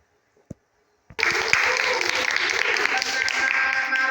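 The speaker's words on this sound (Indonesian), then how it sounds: "Atas nama Fanya 50, tetap tepuk tangan." A classroom of students breaks into applause for test scores after a couple of faint taps, then steady dense clapping continues close by with voices mixed in.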